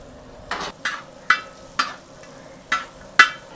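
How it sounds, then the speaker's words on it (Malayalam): Small onions with turmeric powder, chopped coconut and salt fry in a hot pan for a beef roast, with a steady low sizzle broken by six sharp scraping stirs at roughly even intervals. "ചെറിയൊരു മഞ്ഞ കളർ വരുന്നവരെ ഒന്ന് മൂപ്പിക്കുക."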